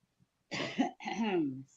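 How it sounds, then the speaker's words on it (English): A person clears their throat in two rough, gravelly bursts, close and fairly loud, after a brief quiet start. "let me clear my throat"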